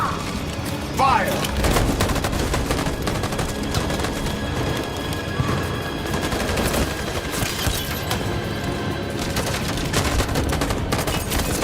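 Sustained gunfire from a Detroit: Become Human PC mod firefight: dense, continuous bursts of automatic weapons and scattered booms, loud and chaotic throughout, with shouted voices mixed in.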